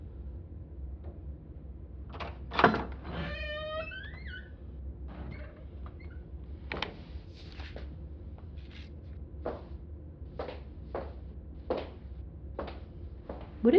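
A stuck door in a short film is forced open with a creaky squeal, followed by a series of sharp knocks and thuds as it is shoved repeatedly, close by in a quiet room.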